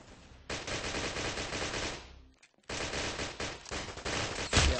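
Sustained automatic gunfire from the video game Munition, loud and dense, broken by a brief pause before the rapid shots resume.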